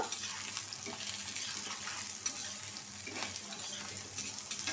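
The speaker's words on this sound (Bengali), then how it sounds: "এখন এটারে একটু ভাজা নিব, বাদামি রং করে নিব" Garlic and onion with green chilies fry in a pan with a steady, soft sizzle and faint stirring scrapes, close by and fairly quiet, with no talking.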